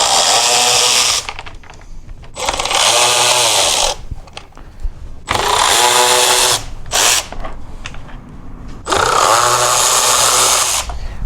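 A power driver whirs in loud bursts while backing T20 screws out of a UTV headlight, four long high-pitched runs separated by short pauses with small clicks and handling noises.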